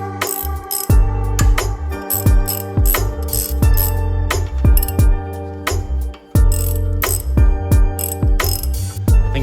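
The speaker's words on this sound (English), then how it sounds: "it looks like the oil tube isn't too hard to take off. It looks like 2 8mm bolts right there" A hand ratchet loosening the oil tube bolts on an SVT Cobra engine, loud close clicking strokes in repeated bursts with brief pauses between, no talk.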